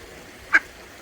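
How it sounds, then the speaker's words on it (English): A quacker duck gives one short, sharp quack in the middle of quiet background noise, close and fairly clear. "4 little healthy quacker ducks."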